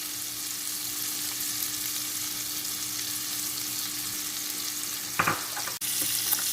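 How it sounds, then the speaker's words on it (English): Fish frying in a pan of olive oil and butter with onions and garlic, a steady close sizzle with a constant crackle throughout and a short burst of clatter near the end. "we are cooking with olive oil. All right, so now we're just adding some butter, some onions and garlic"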